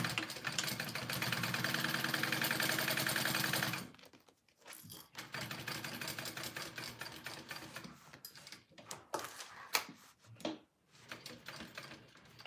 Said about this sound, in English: I'm gonna go ahead and baste my two pieces together here